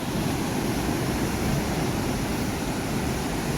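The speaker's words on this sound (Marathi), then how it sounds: "लाटांचा आवाज येता त्याका गाज म्हणतात लाटांची गाज" Rough monsoon sea surf breaking on the Konkan shore near Mithbav, a steady, dense roar of waves with no voices, loud and continuous throughout.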